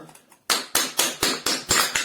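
A hammer strikes hard drives being dismantled for copper recovery, six sharp metallic blows at a steady pace, close and loud.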